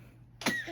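A baby coughs once, short and close, right after a quiet moment while drinking apple juice from a bottle.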